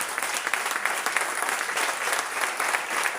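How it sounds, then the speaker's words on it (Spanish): A congregation at a worship service bursts into sustained, dense applause, a continuous wash of many hands clapping together at an even level throughout. "aplaudo al Señor."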